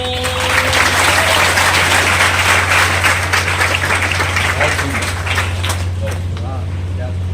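Warm audience applause welcoming a poet at a memorial poetry gathering in Udaipur, a thick sustained round of clapping over a low steady hum, easing off near the end as a voice begins.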